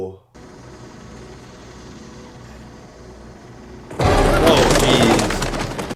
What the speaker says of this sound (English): Oh my god, why birds?